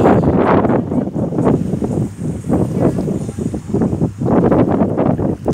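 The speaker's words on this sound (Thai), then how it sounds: "ลมแรงจังเลย" Strong evening wind at the seaside roars and buffets the microphone in loud, continuous gusts, with faint rustling and surf beneath and no clear speech.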